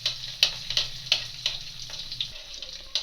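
Grated ginger frying in a pan with a pinch of asafoetida for a carrot and radish pickle, a steady close sizzle broken by a series of sharp, regular ticks of a spoon stirring against the pan.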